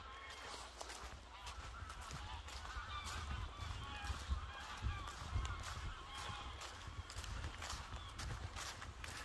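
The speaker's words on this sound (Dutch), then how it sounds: "Overvliegende ganzen in de mist." Geese honk repeatedly overhead in fog, a faint, distant chorus of calls drifting by against a soft, muffled background.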